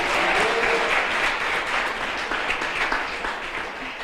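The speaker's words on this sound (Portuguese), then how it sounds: "Você pode aplaudir o Senhor?" A church congregation applauds during a sermon, a dense, steady burst of clapping from many people that tapers off slightly toward the end.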